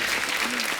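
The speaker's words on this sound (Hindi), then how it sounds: "एक बार इनकी फिटनेस के लिए जोरदार तालियां हो जाए यार।" Studio audience applause on a Hindi television show, a dense continuous wash of clapping across the short moment, fairly loud and steady with no voices on top.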